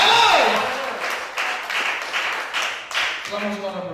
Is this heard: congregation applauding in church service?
yes